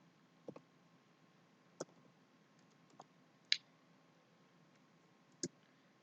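A computer mouse clicks five separate times at irregular intervals, each a sharp, close tap against a quiet room background.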